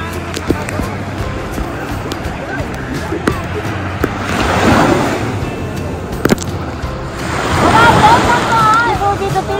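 Ocean waves surge and wash in twice on the coast of Musandam, Oman, swelling and receding, with wind buffeting the microphone and people talking over the surf.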